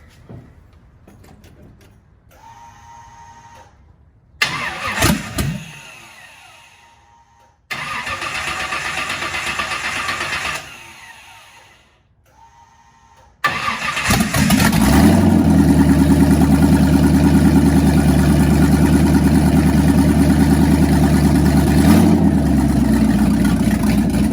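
A 1959 Chevy pickup truck engine cranks with several stuttering attempts and short pauses, then catches and settles into a loud, steady rumbling idle close by.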